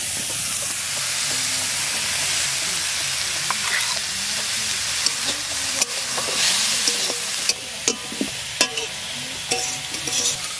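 Raw garlic frying in a pan over a low flame, a steady soft sizzle and hiss with occasional scraping stirs and light clinks, close and continuous without talk.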